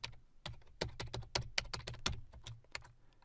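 Rapid keystrokes on a computer keyboard, about a dozen distinct clicks in an uneven typing rhythm, close and clear over a faint low hum, with no talking.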